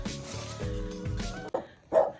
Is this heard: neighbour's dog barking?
yes